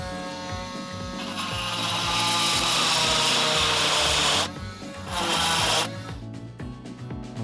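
An oscillating multi-tool runs at speed setting 2, its replacement blade cutting with a harsh, buzzing whine. The buzz swells louder while the blade bites in, eases off briefly, surges again, then winds down near the end.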